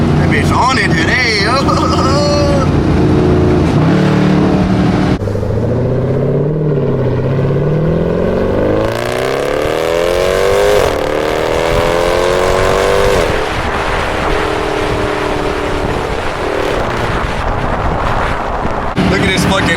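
An SRT Jeep drives on wintry roads, its engine droning loudly and rising steadily in pitch as it accelerates through gears, with heavy wind buffeting the microphone throughout.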